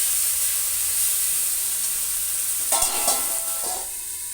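Ground onion and chilli paste sizzles in a pan while cooking pabda fish, a steady bright hiss that swells into louder spluttering bursts and a few metallic clinks partway through, close and without voices.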